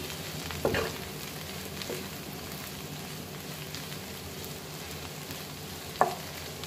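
Chopped snake gourd (chichinga) sizzles steadily in a pan, up close, with a few sharp clinks or stirring scrapes early on and near the end.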